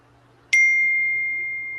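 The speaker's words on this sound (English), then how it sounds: "somebody's got a notification bell really loud" A notification bell gives one loud, sharp ding, then its clear ringing tone fades slowly over quiet background noise.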